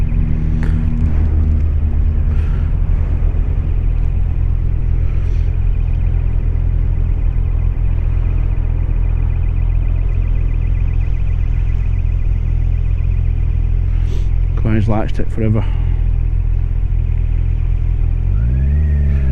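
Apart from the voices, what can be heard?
Kawasaki Ninja 1000 SX motorcycle engine riding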